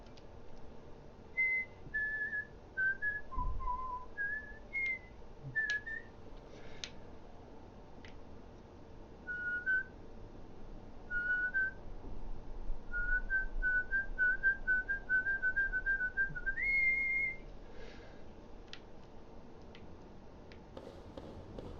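A person whistles a film theme tune solo, a string of clear sustained notes rising and falling at a moderate tempo, with faint ticking and light room noise beneath and long quiet stretches afterward.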